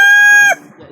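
A rooster's crow, loud and close, ending abruptly after about half a second, followed by quiet background noise.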